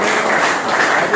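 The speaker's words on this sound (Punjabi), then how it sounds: "ਤਾੜੀਆਂ ਮਾਰ ਦੇ ਇਹਦੇ ਪਾਪਾ ਲਈ" A classroom audience claps steadily for a student's father, a dense, even wash of applause that holds at the same loudness throughout.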